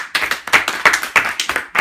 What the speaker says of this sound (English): Give you guys yourselves a round of applause.